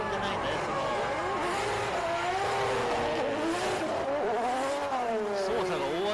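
Drift car at a D1GP round at Tsukuba in 2023, its engine roaring steadily at high revs with rising and falling pitch and tire noise, loud and continuous, with commentary talking over it throughout.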